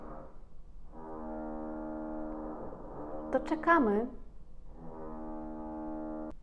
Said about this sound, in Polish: bo tam jeszcze u sąsiadów pies wyje